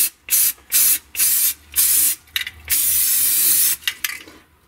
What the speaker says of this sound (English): throw down a little bit of primer